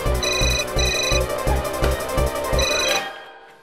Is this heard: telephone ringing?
yes